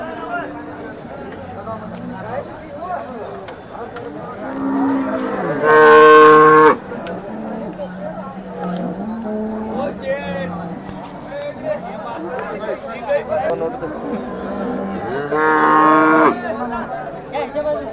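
Two loud cow moos stand out from a busy cattle market background of chatter and crowd noise, the second one coming several seconds after the first.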